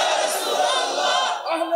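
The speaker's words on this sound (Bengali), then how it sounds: "একটা তাকবীর দিবেন কেউ জোরে" A large gathering at a religious sermon shouts takbir together in one sustained, loud collective roar that fills the whole short moment, with many voices blended into a single dense wall of chanting.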